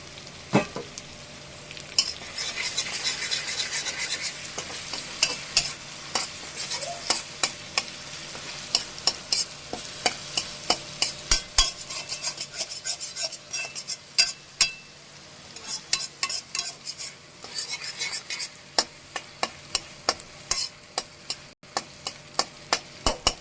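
Kochur loti (taro stolon) paste frying in oil, a steady close sizzle with frequent regular spatula scrapes and taps against the pan throughout.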